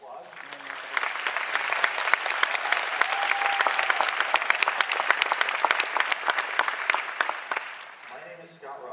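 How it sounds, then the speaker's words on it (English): An audience claps for volunteers at an Arbonne training event: steady, dense applause fills the room for several seconds and then fades, with a voice briefly audible near the start. "let's give a big round of applause"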